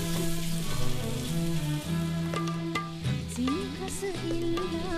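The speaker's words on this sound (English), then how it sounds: "Onion, curry leaves, ginger and garlic hit the pan" Onion, curry leaves, ginger and garlic sizzle in a hot pan with a steady crackling hiss, while light clinks and kitchen noises sound over it.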